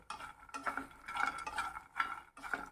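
Makhana (fox nuts) roasting in ghee in a pan is stirred in about five soft, short scraping strokes, quiet and close, with small pauses between them.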